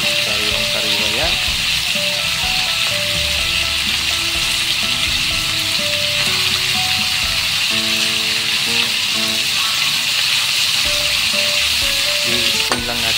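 Bitter gourd (ampalaya) sautéing in a pan with chicken liver, a steady loud sizzle and frying hiss running throughout, with occasional stirring and a voice talking over the cooking.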